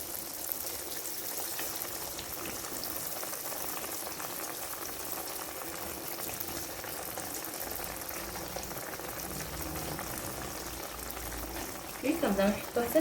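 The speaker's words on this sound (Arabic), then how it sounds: "هنا من بعد ما كيسخن الزيت مزيان صافي كنبداو نحطوا لي دونات ديالنا بحال هكا" Donuts fry in hot oil, a soft steady bubbling hiss that runs continuously and fairly quietly, with a few louder clinks and movements near the end.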